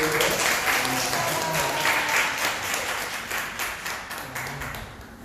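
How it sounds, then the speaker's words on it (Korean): Members of a church congregation clap in welcome for a guest, a dense, lively burst of applause from many people that gradually thins and fades toward the end. "그렇게 박수로 환영해 주세요"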